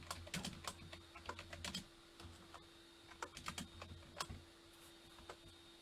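Computer keys clatter in quick irregular bursts of taps with short pauses, fairly close and soft, heard alone in a quiet room with a faint steady hum behind.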